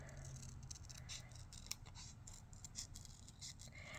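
Scissors snip through designer series paper to fussy cut a small honey bear shape, giving quiet, close, irregular crisp clips and paper rustles with no voices.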